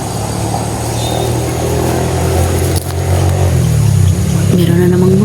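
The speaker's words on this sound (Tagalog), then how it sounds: "Meron na namang motor." A motorcycle passes close by, its engine droning and rising in pitch as it nears, loud and continuous over background street noise.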